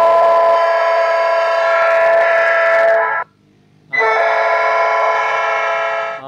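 Loud train horn blasts from a three-button horn module, a sustained harmonic honk for about three seconds, a brief gap, then a second long blast, with no talk over it.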